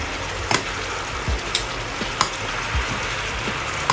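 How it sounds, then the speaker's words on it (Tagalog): Pork bistek simmering in a pan as its liquid cooks down, a steady close sizzle and bubbling with a few sharp pops and clinks, no talking. "hayaan muna natin kumulo hanggang matuyo mga kapatid"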